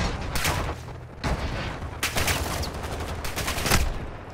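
Rapid bursts of gunfire in the Call of Duty DMZ video game, loud and close, with several clusters of shots and sustained volleys over a dense background of battle noise.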